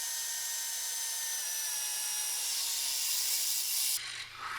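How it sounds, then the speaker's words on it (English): A steady, high-pitched whine of a power drill boring through the body sheet metal of a Mercedes W123 near the windscreen, continuous and close, cutting off abruptly near the end. "I can now punch and drill the hole to finish the welding side of things"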